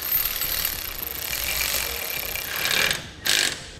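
A socket wrench ratchets as it tightens 9/16 bolts on a trailer jack mount, giving a run of close, fast mechanical clicks and whirring with a short burst near the end, with no one talking.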